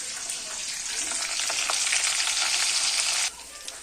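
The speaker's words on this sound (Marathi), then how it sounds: "ही आलं लसूण पेस्ट छान अशी भाजून घ्यायची तेल सुटूस्तर" Ginger-garlic paste and spices with bay leaf, chilli and turmeric frying in oil, a steady close hissing sizzle with light stirring crackles that drops suddenly in level near the end.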